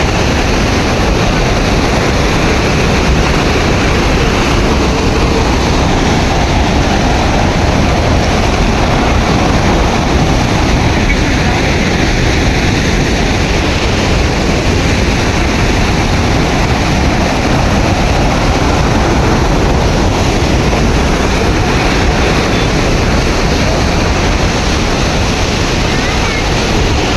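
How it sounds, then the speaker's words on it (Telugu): Water rushes at the Ranganayaka Sagar reservoir in Siddipet, a loud, dense, unbroken roar that fills the whole span at close range. "సో చూశారు కదా వాటర్ సౌండ్ ఎట్లా వస్తుందో"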